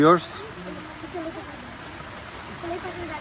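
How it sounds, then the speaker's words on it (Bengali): Steady rain falls on an outdoor village cooking spot where chicken is being cooked, a soft continuous hiss of drops throughout, with a brief voice at the very start. "আজকে যথেষ্ট বৃষ্টি হচ্ছে"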